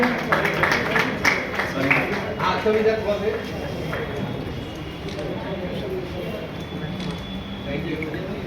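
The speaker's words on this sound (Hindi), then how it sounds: "जोरदार तालियां।" An audience at a quiz and motivation event claps in a brisk patter for a few seconds before the claps fade into a general murmur and talk.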